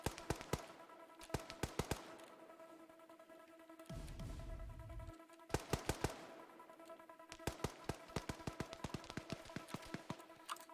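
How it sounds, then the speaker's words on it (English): Video game gunfire exchanged in rapid bursts, sharp cracks in uneven clusters with short pauses, one stretch of rumbling noise in the middle, all fairly close and steady, with no talk. "now a lot of shots being traded"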